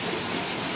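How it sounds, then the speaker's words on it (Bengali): Heavy torrential rain pouring down outside, a steady, dense rushing hiss that fills the brief moment without any voices. "পানি পড়ছে বাইরে খুব জোরে, মুষলধারে পানি হচ্ছে না বাবা"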